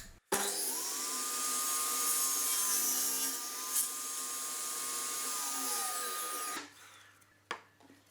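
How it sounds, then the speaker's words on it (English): A homemade table saw with a crosscut sled spins up with a rising whine, then makes one loud, sustained cut through wood before winding down, followed by a few quiet clunks. "I decided to use my homemade table saw and crosscut sled"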